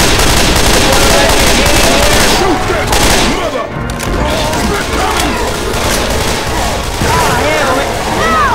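Loud, sustained automatic gunfire and booms from the zombie shooter Left 4 Dead 2, a dense, continuous barrage with a voice shouting over the shooting.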